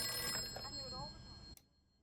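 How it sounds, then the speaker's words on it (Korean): An old telephone in a house rings briefly and then cuts off into quiet, with people talking over the ringing. "집안에 있던 낡은 전화기가 울리기 시작합니다"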